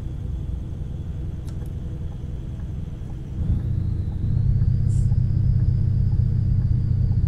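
A heavy truck engine in Euro Truck Simulator 2 droning low and steady, then climbing in pitch and loudness as it over-revs, a sustained rising whine layered over the deep rumble.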